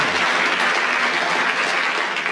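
Audience applause at a 1970s radio panel game recording, a dense, steady clapping from a studio crowd that holds at full strength throughout with no voices over it.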